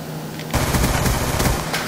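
Dual wield pistols in Black Ops 2 fire a fast, continuous string of close, loud shots that begins abruptly after a brief quieter moment and keeps hammering to the end.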